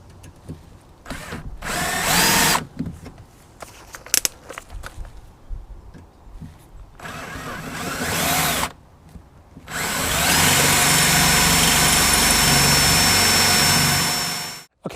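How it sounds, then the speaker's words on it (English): A power drill bores into a rusty fixing on a 1991 Mk2 VW Golf GTI, running in short bursts, then a long steady loud whine near the microphone. "You can try and drill it out if you want to be a little bit more gentle."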